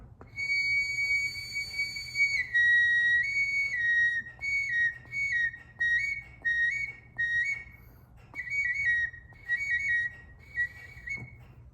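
A high, pure whistle from a handmade wooden Native American-style hawk or cardinal bird whistle, blown in short repeated bursts and a few longer held tones, with a faint low hum in the background.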